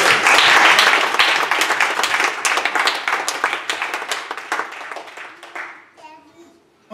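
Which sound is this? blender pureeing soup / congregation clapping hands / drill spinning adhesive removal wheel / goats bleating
congregation clapping hands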